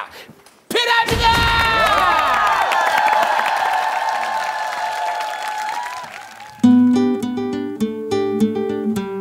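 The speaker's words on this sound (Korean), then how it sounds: "여러분들 큰 박수가 필요합니다" A TV studio audience bursts into loud, sustained applause and cheering, then it fades as music begins underneath.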